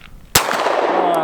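A single double-action handgun shot cracks outdoors in muddy conditions, one sharp loud report followed by a brief ringing decay.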